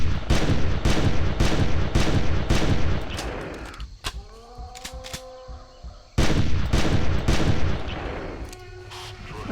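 Rapid gunfire in the video game Carnivores Legacy as a Brontosaurus is shot: loud, repeated shots in quick bursts, a lull of about two seconds, then another volley of dense shots.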